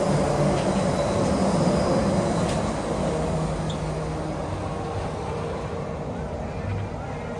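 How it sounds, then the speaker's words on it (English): Disneyland monorail passing on a chilly day, a broad low rumble of rail wheels and motor that swells early then slowly fades, mixed with outdoor park crowd noise and nearby talking. "There's the monorail."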